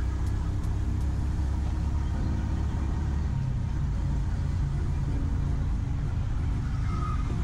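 A Suzuki Smash motorcycle engine rumbles steadily while the rider downshifts on a city street, a close, continuous low drone mixed with wind buffeting and road noise and no clear breaks.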